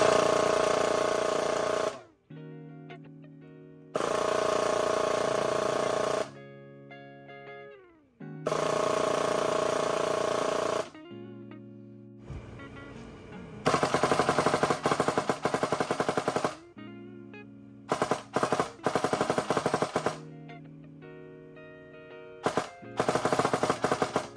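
A Paragon Armory airsoft gearbox motor on a test bench whirs in repeated bursts of a few seconds each, the loud buzzing runs alternating with quieter spin-down tones and short pauses.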